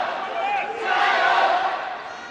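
Arena crowd cheering and shouting during a Sanshou Sanda World Cup semi-final bout between China and Sri Lanka, a steady swelling roar of voices with some rising shouts, loud and continuous throughout.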